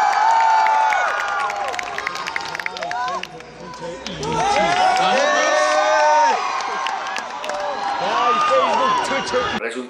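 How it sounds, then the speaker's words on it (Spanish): Audience at a media festival panel in Colombia cheers and whoops loudly, with sustained crowd noise and applause throughout and voices shouting over it. "Vamos a darle un gran aplauso también a Mods,"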